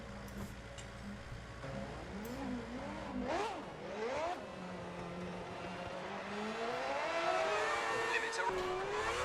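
A Formula 1 race car engine in the video game F1 2010 blips and revs repeatedly in short rising and falling bursts, then climbs in a longer sustained pitch sweep. It plays at moderate volume over a steady background hum.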